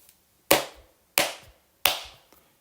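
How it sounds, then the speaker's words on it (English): Three sharp hand claps ring out at an even, unhurried pace, each one close and crisp with a short decaying tail, and the spaces between them are quiet. "We heard clapping behind us."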